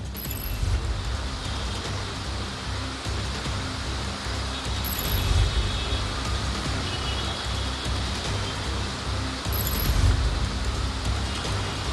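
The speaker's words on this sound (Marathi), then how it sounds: "पश्चिम द्रुतगती महामार्गावर मुसळधार पावसामुळे वाहतूक मंदावलेली आहे" Heavy monsoon rain and slow-moving traffic on the Western Express Highway merge into a dense, steady roar with a few swells of passing vehicles, and no voices.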